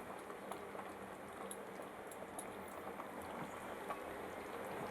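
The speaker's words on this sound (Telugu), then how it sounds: "ఇలా చక్కగా చికెన్ ఉడికేంత వరకు వేయించేసుకుందాం" Chicken frying in a pan for a chicken gravy: a soft, steady sizzle with fine crackling bubbles, continuous and fairly faint for the whole stretch.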